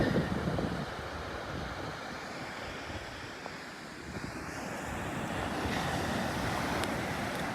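Ocean surf at Pawleys Island, South Carolina washes in with a broad, steady rush, foot-high waves about nine seconds apart swelling and fading gently as they break, with some wind noise and no voices.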